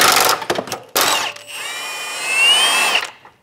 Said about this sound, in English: we're going to start undoing the subframe bolts